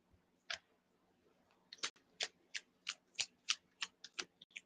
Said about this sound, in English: So I'm shuffling